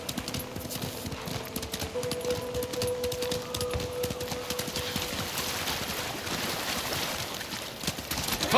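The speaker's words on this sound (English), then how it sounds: "You're a good horse." Horse hooves gallop in a steady, rapid clip-clop rhythm in Ghost of Tsushima, carrying on continuously at moderate loudness alongside a faint sustained tone, with no voices heard.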